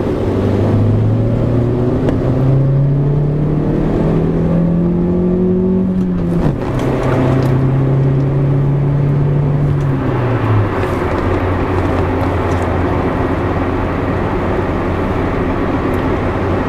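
A Hyundai Getz with a 12-valve engine running on LPG revs hard while driving, its steady drone climbing in pitch, dropping, then climbing again before settling. The engine is loud and close, and no one speaks.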